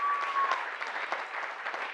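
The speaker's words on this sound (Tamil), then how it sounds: "என்னுடைய குட்டி புலி ரமேஷுக்கு ஒரு அரங்கம் நிறைந்த கைத்தட்டல தாங்க" An audience in a packed hall breaks into steady, sustained applause, a dense even patter of many hands heard from a moderate distance.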